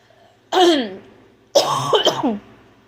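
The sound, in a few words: coughing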